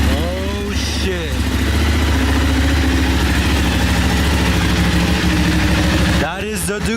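A Ducati motorcycle engine runs at a steady, loud idle, a low throbbing drone heard close up, with brief voices and handling noises at the start and end.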